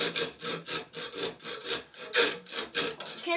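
Hand saw cutting through wood in a steady back-and-forth rhythm of rasping strokes, close and fairly loud, with no talking over it.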